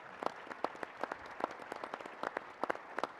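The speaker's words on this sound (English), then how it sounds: "Please give them a round of applause" Scattered, sparse clapping from a small convention audience honoring emerging leaders, distinct individual claps in an uneven rhythm rather than a dense roar.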